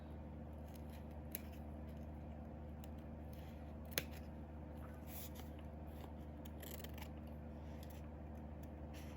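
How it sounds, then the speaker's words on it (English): Scissors snip through paper stickers in a quiet room during a craft session, a few faint, sharp cuts scattered over steady low background noise, with one louder snip standing out. "Let me just first trim all the stickers."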